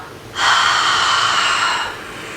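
A single long, close ujjayi yoga breath drawn through the nose with the mouth closed, a steady airy hiss lasting over a second and then trailing off, with no talk.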